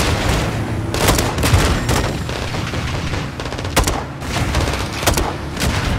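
Light machine gun fire rattles in Call of Duty: Modern Warfare 2 (2022), loud, close bursts of rapid shots and booming impacts that repeat in clusters across a few seconds of combat.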